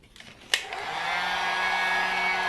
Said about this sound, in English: heat gun, blow dryer, make sure you don't put it too close to the fabric